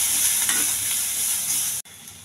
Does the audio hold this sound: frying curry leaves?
yes